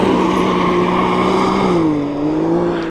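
A 2022 Can-Am X3 turbo RR side-by-side pulling hard from a standing start, its engine droning loud and close with a sustained rising-then-dipping tone as it accelerates.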